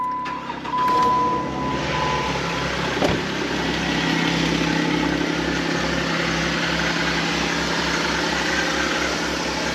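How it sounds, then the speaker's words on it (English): A high-mileage Jeep Wrangler JK with 270,000 miles idles steadily and close by, its engine a noisy, slightly rough rumble with a faint tick, running alone without any talk. "This engine's a little bit louder, it's a little bit noisier."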